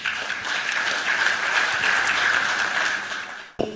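A studio audience on a Senegalese TV show applauds with dense, loud, sustained clapping that cuts off abruptly near the end.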